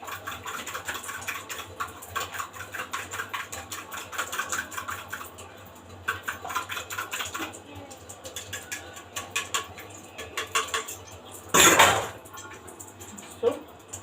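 Eggs being beaten in a bowl for a simple breakfast: quick, rhythmic clicking strokes come in steady bursts with short pauses, and a louder clattering burst follows near the end.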